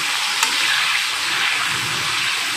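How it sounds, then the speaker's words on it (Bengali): Raw mango pieces fry in hot oil for a pickle, giving a loud, dense, continuous sizzle with light stirring close by. "এবার তেলের ওপরে আমি আমটা দিয়ে একটু ভালো করে নেড়ে নিচ্ছি"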